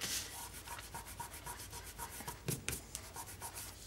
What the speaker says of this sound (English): you can just kind of rub that with your finger